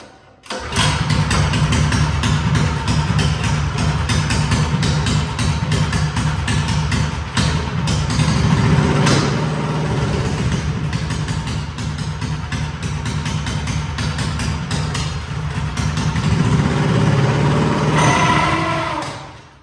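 A minibike with a Tillotson 212 race motor, new clutch and air filter, runs steadily and loud up close, a buzzing single-cylinder drone that holds for nearly twenty seconds with slight revving swells before cutting off.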